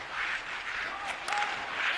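A virtual arena crowd at a hockey video game applauds and cheers in a steady, wide wash of clapping that swells slightly near the end.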